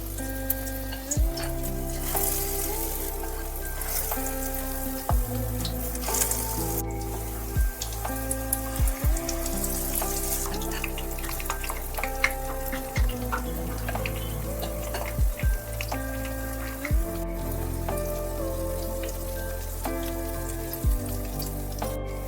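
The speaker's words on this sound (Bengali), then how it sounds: "দিয়ে ভালোভাবে ব্যাটারটায় একটু চুবিয়ে নিচ্ছি দিয়ে এবার ছেড়ে দিলাম তেলের মধ্যে" Batter-coated cauliflower florets for gobi pakora fry in hot oil on a medium flame, giving a continuous close sizzle with scattered crackles and pops and occasional soft clinks, no talk.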